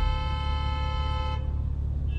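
A car horn blares from behind at a highway toll plaza, one loud sustained honk lasting over a second, then cut off, leaving traffic rumble.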